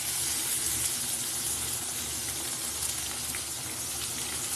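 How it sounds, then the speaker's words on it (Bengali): Pointed gourd and potatoes sizzle in hot frying oil, a steady close hiss and crackle that runs unbroken, with no talking. "দেখো তেলের মধ্যে পটল আর আলু দিয়ে মশলাটা রেডি করে নেবো"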